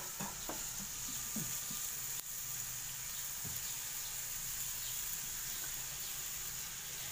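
Onion fries in hot oil, a faint, even hiss of sizzling that runs the whole way, with a few soft knocks from stirring early on.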